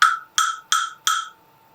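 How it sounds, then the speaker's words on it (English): A wood block is struck four times in a steady rhythm, each hollow, dry knock close and clear with a short decay, played as a rhythm instrument in a children's winter song activity. "we're going to use a wood block, and that gives us a wooden instrument to listen to"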